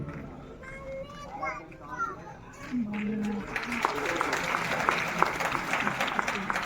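Applause from an audience at a ceremony at Gorakhnath Mandir in Gorakhpur, with the CM present, building after an announcer's voice into steady, dense clapping with crowd and children's voices mixed in.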